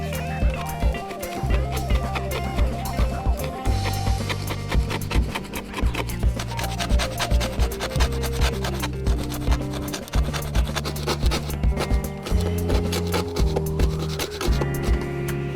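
Old bottom paint is being scraped off a boat hull, a loud, rapid run of rough rasping strokes in a steady rhythm, close and continuous, with a low droning hum underneath.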